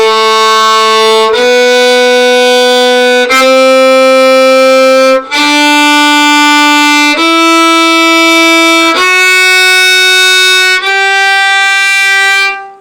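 A bowed string instrument played with the bow digging in too hard: seven long sustained notes, one after another, loud and close, harsh and buzzy in tone, with no talking.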